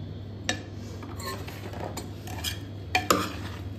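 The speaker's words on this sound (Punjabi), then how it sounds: "ਆਪਾਂ ਇਹਨੂੰ ਨਾ ਚੰਗੀ ਤਰ੍ਹਾਂ ਮਿਕਸ ਕਰ ਲੈਣਾ" A spoon stirs ridge gourd curry with turmeric in a pot, giving a soft scraping churn punctuated by a handful of sharp metallic clanks against the pot rim, close and with no talk.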